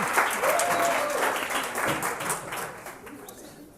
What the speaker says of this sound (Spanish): Un aplauso para Andreas